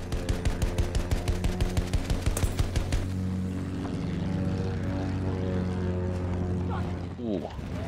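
In the video game Battlefield 1, an attack plane's engine drones loudly under rapid bursts of gunfire that stop after a few seconds, leaving a sustained propeller roar while players talk over it.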